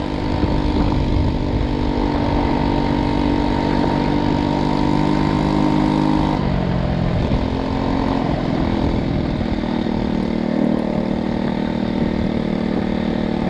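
A China Power 50/80 4-stroke scooter engine braking on the road, a loud, close, steady engine drone with wind noise that drops in pitch about halfway through as the scooter slows.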